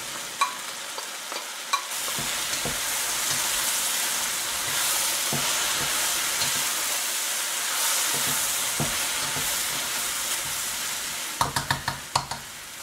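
Mushrooms fry in a pan, giving an even hissing sizzle that runs throughout, with scattered clicks and sharp taps of stirring, clustered near the start and the end.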